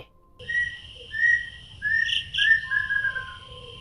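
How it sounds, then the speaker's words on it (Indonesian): A plaintive cuckoo gives a series of clear, drawn-out whistled calls, rising and falling, repeated several times over a soft low hum. "suara burung kedasi di depan rumah"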